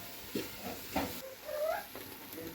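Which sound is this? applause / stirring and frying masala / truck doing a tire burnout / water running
stirring and frying masala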